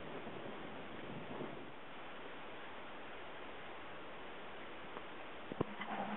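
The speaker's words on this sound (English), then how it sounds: "Oh, we've got a lot of wind coming in there." Strong wind sweeps across a lakeside campsite in a steady, broad roar of rushing air that holds constant throughout, with a few faint knocks near the end and no voices.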